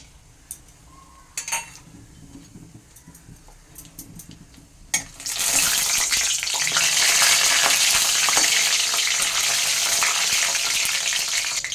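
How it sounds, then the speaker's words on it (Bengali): Whole spices drop into hot oil, among them bay leaf, black and green cardamom, cinnamon pieces and cloves. A few light clinks come first, then a sudden loud, close sizzle that stays bright and steady. "ফোড়নে দিচ্ছি একটা বড় এলাচ দুই টুকরো দারচিনি চারটে লবঙ্গ আর দুটো ছোট এলাচ"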